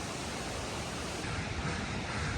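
Heavy rain-swollen water pouring over Cane Creek Falls, the upper cascade at Fall Creek Falls State Park, as a steady, dense roar with no letup and no voices.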